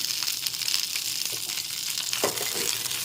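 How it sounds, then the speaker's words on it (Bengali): Cashews, garlic, cardamom, cinnamon, ginger and green chillies fry in hot oil in a pan, giving a steady close hiss with a few soft stirring scrapes and no talk. "একটু হালকা করে ভেজে নিতে হবে।"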